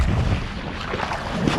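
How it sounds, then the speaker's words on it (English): Steady wind buffets the microphone outdoors, a dense continuous roar with low rumbling gusts throughout, loud and close, with no talking. "Now the wind's dropped."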